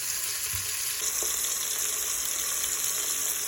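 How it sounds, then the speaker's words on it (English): Onions fry in a pan with a steady, bright sizzle that carries on throughout, close and continuous, with a couple of faint knocks and no voices. "So I got the onions in there, and you can see that browning in the middle."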